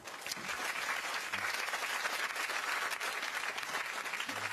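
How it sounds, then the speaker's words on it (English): A television talk-show studio audience breaks into sustained, dense applause, steady and loud throughout with no pauses, a continuous wash of many hands clapping together. "Give him a round of applause"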